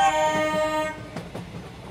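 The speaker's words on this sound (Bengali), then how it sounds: "আমি দৌড়ে ট্রেনটায় উঠে পড়লাম আর সাথে সাথে ট্রেনটা একটা লম্বা হুইসেল দিয়ে ছেড়ে দিল।" A cartoon train blows a long steady whistle as it departs from a station platform in an animated Bengali ghost story, the tone holding for about a second before fading into rumbling, clattering wheel noise.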